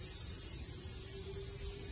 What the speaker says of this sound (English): Just start spraying it on there.